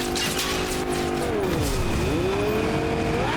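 Car driving in the Fortnite video game, with loud continuous engine drone and tire squeal, pitch sweeping down then rising as the vehicle swerves and crashes, steady and close throughout.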